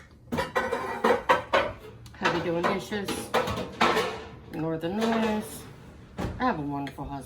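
Dishes being washed in a home kitchen, with pots, lids and cutlery clattering in sharp intermittent bursts beneath someone speaking nearly throughout.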